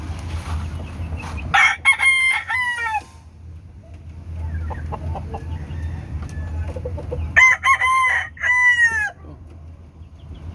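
Two loud rooster crows ring out several seconds apart, each a long wavering call, over a steady low hum and background clucking.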